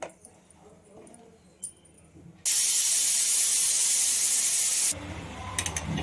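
A pressure cooker releases steam in a loud, steady hiss lasting a couple of seconds, with quieter kitchen noise before and after, while cooking chickpea (kadalekalu) gojju.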